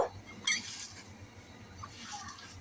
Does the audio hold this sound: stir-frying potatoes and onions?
yes